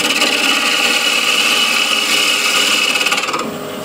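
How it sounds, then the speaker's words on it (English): A bowl gouge takes light truing cuts across the top of a wooden bowl spinning on a lathe, a loud continuous shaving hiss that eases off near the end, with no talking. "with the ball gouge I'll just true up the top here. So just light cuts."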